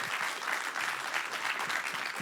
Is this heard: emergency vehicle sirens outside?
no